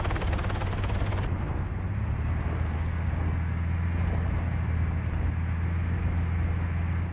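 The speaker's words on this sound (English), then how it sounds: "this guy does a pretty fucking crazy flyby" Aircraft flyby in Arma 3, a steady loud low engine drone with rotor-like rumble that sweeps in and holds throughout, with a sharper high rush easing off after the first second.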